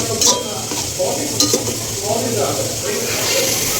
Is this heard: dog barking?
no